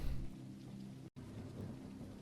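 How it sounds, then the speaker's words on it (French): Steady rain with low thunder rumble in the open-world video game Paradise, a constant dense downpour that cuts out for a split second midway before resuming, with no voices. "Là, la pluie, elle est dégueulasse."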